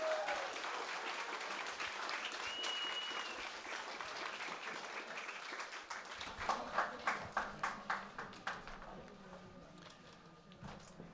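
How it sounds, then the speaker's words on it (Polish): Audience applause fills a big band jazz concert at Jazz Camping Kalatówki, steady and dense at first, then thinning into sharper individual claps toward the end. "Brawa, pięknie."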